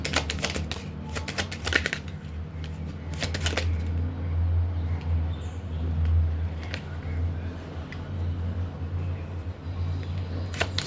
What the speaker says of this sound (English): I'll pick up all of the cards, of course, and share them